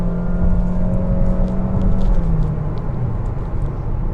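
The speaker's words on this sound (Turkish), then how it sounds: "Ben bayılıyorum bu Honda'nın atmosferik sesine." A 2022 Honda HR-V 1.5 hybrid's naturally aspirated engine hums and rises steadily from inside the cabin, a smooth sustained drone building as it accelerates, with no voices.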